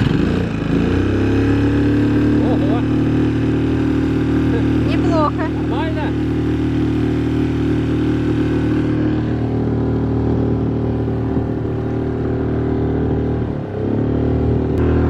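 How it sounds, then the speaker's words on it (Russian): Outboard motor pushing a fairly heavy wooden boat along a river, a steady loud droning engine hum holding constant throughout, with a brief dip near the end. "посмотрим, как эта лодочка, довольно тяжелая, деревянная, поедет с нашим двигателем"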